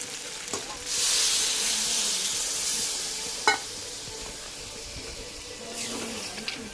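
Water poured into a hot pan of chicken curry bursts into a loud hissing sizzle with steam, then settles into a softer simmering fizz with a couple of clanks of a utensil.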